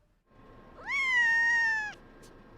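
A single drawn-out meow from a cat at a feline rescue shelter, near and clear, rising at the start and then holding steady for about a second over quiet room noise.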